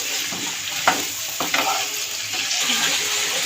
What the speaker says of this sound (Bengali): আগে থেকে যে সবজি সেদ্ধ করে রেখেছিলাম সবজিটাও দিয়ে দেবো দিয়ে একটু সবজি দিয়েও কষিয়ে নেবো